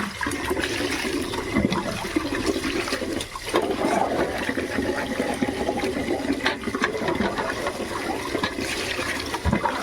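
Running water streams in a loud, unbroken rush as prawns are rinsed under it, with light splashing and trickling that carry on through the whole clip.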